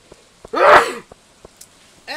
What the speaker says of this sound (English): And I'm going to sneeze.